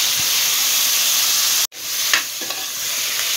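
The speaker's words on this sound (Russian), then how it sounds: "Добавляем 350 грамм кубиками нарезанную куриную грудку. И обжариваем до тех пор, пока грудка не поменяется в цвете" Cubed chicken breast frying in a pan for sorrel soup, a loud steady sizzle and hiss that cuts out abruptly for an instant, then resumes with soft stirring scrapes.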